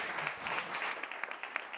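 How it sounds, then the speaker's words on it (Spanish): Audience applause closing a Spanish talk show, a dense wash of clapping with sharper individual claps standing out toward the end, fairly close and steady throughout. "un aplauso para vosotros"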